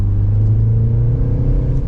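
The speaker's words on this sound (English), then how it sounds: "you hear the engine sounds" The engine of a 2025 Mini Countryman S ALL4 hums as a loud, steady low drone in go-kart driving mode, heard from inside the cabin with no talking.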